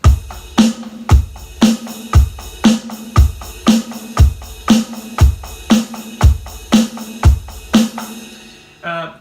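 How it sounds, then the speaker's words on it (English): Drum kit playing a song's pre-chorus groove with the hi-hat part moved to the ride cymbal, a loud, close, steady pattern of kick and snare hits under ringing ride strokes, ending with a short fill. "we're going to take the hi-hat part and we're going to put it on the ride cymbal"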